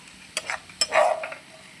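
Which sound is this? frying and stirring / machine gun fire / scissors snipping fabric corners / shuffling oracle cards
frying and stirring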